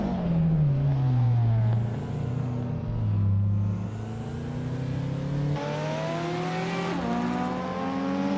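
Race car engines on a track, including an all-wheel-drive Subaru Alcyone SVX, droning and revving up and down through gear changes, loud and close, with no talk.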